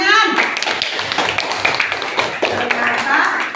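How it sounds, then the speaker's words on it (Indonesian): A classroom group claps after a student presentation, brisk scattered hand claps mixed with voices and chatter at fairly close range. "Tepuk tangan."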